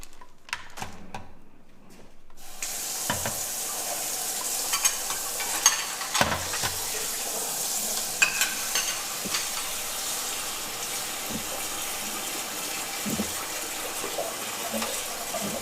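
Food stirred and scraped around a sizzling pan with a scraper, steady frying hiss with intermittent scrapes and clicks, no talking.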